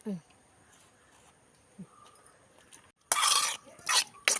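A spoon stirs sardines with green peppercorns in a pan: after a quiet stretch with faint clicks, a couple of short, loud scraping bursts sound close by.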